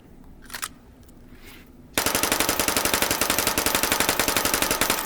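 A .25 ACP submachine gun in Hot Dogs, Horseshoes and Hand Grenades cuts in suddenly after a quiet moment and fires a loud, continuous rapid burst of evenly spaced shots for several seconds.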